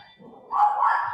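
A single dog bark or yip breaks out midway, fairly close and alone after a quiet start, with no one talking.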